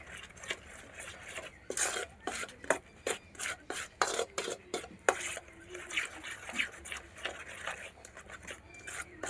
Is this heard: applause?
no